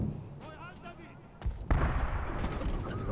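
A grenade explosion in the 2010 video game Medal of Honor, a heavy boom about midway followed by a sustained rumbling blast that drowns out the earlier fainter battle noise.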